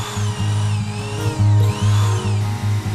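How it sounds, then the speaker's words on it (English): A power drill with a spade bit whines steadily up close, its motor pitch rising and falling in a few bursts as the bit bores pilot holes into paulownia wood. "get a spade bit and drill a few pilot holes"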